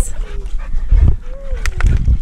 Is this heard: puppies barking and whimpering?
yes